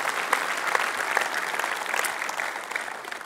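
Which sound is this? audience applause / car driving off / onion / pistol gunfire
audience applause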